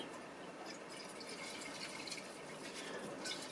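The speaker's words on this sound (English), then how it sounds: "I'm just going to slosh it around a bit" Vinegar sloshes around inside a Porsche 944 headlight housing, a faint, continuous swishing of liquid heard close up with no talking.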